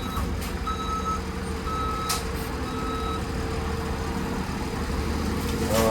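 Trucks idle while being loaded with swamp dirt, a steady diesel rumble under intermittent electronic reversing beeps that come in short repeated series, with no talking.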